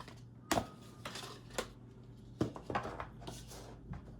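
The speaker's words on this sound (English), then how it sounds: "Let me shuffle them real quick." Tarot cards shuffled by hand give a series of sharp, quiet riffling snaps and slaps, irregularly spaced clicks and flutters with soft gaps between them and no talking.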